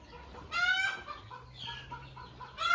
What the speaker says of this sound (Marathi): इथं आपलं मोठ्या पक्ष्यांचं शेड आहे ते शेड बघूया आतमध्ये कसं आहे